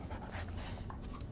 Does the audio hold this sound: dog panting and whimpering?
yes